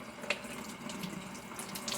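Tap water runs steadily into a sink while plant cuttings are rinsed, a continuous close splashing hiss with no talk.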